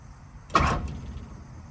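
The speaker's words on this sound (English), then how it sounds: "So ignition is working. Car is turning over." A 1970 Ford Falcon being cranked over on a first start after hackjob harness wiring, a single short burst of starter whir that trails off, fairly close and alone.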